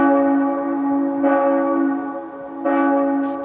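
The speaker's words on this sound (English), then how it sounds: "The bells of Knock Shrine rang aloud after the election of Pope Leo XIV." Church bells of Knock Shrine peal loud and close, rich sustained tones with fresh strikes swelling in about every second and a half, ringing out alone without voices.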